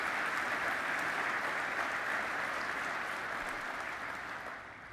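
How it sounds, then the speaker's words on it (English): Crowd applauding the pipes and drums and color guard at a 9/11 twentieth-anniversary event, a broad, sustained clapping from a large audience heard at moderate distance, steady before tapering slightly toward the end. "A round of applause for the pipes and drums and the color guard"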